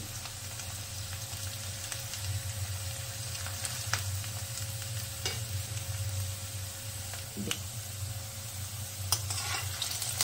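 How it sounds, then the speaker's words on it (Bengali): Potatoes frying in a pan, left over from breakfast and browning until reddish: a steady, even sizzle with a low hum beneath it and occasional small crackles and taps, with no voices. "আলুটা একটু ভেজে নিচ্ছি"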